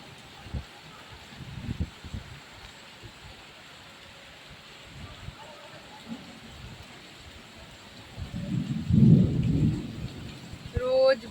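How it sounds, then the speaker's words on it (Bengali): Heavy evening rain pours down in Kolkata with a steady wash, broken by several low rumbles of thunder, one long heavy roll near the end, with faint voices in the background. "এখন দেখো মুষলধারে বৃষ্টি পুরো ঢালছে"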